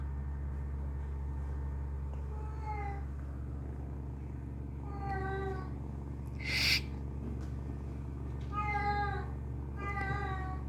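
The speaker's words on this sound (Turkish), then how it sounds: "Burada yeteri kadar kedi var." Several cats in heat meow and yowl in bursts, drawn-out wavering cries repeating every couple of seconds against a steady low hum, with one brief sharp noise midway.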